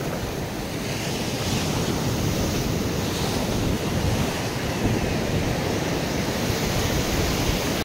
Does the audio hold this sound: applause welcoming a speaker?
no